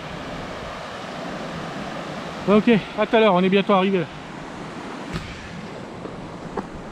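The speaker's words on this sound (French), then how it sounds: "Magnifique cascade." Steady broadband rush of a waterfall beside a hiking trail near an old Japanese railway path in New Caledonia, a constant wash throughout with someone speaking briefly over it midway.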